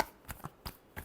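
Tarot cards being shuffled for a Libra reading, heard as four soft, brief riffling bursts spaced about a third of a second apart, close and quiet with no talking.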